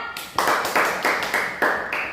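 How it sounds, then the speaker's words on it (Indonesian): Claps ring out in a classroom quiz after correct answers, six sharp even claps in steady rhythm, close and fairly loud with no talk over them. "Tepuk tangan."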